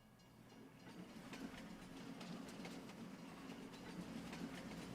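A train pulls in on the Elmcreek map of Farming Simulator 22, a steady rumbling rail roll with repeated clickety-clack wheel beats, moderately loud and continuous with no talking.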